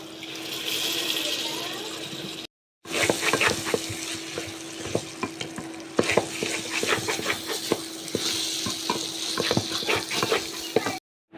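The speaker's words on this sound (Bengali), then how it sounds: "ডাল ভাজা হয়ে গেছে পরিমাণ মতো পানি দিয়ে দেবো" Lentils and rice frying in oil with cumin and black pepper in a pan for jackfruit biryani, with water poured in. A steady loud sizzle and bubbling rush, broken by scraping stir clicks and a brief silent gap near the start.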